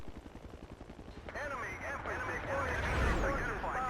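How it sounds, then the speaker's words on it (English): A helicopter in a Battlefield game opens with rapid rhythmic rotor chopping, then gunfire and explosions break out over it and continue loudly under a commentator's voice. "Most of the competitive helicopter pilots do solo seat, Norman."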